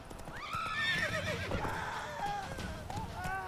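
A horse in The Witcher 3 whinnying loudly, then hooves clip-clopping in a quick galloping rhythm, close and clear with no speech.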